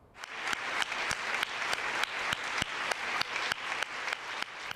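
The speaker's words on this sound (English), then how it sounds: "the applause is a pulse check on the legislature" Applause from legislators at a State of the State address, a dense continuous wash of clapping with regular sharp accents roughly every third of a second, steady and fairly close throughout.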